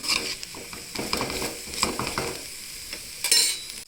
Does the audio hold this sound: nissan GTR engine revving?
no